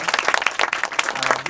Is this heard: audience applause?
yes